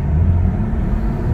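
A BMW turbocharged engine in comfort mode under partial throttle, a steady loud low rumble with a faint airy venting hiss on top, continuous close engine drone throughout.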